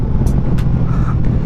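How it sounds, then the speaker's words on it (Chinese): Close, loud rumble of a QJmotor Flash 600 V4 motorcycle exhaust on fuel cut, with a low steady drone broken by a few short crackling pops. "它这个断油的声音挺好听的"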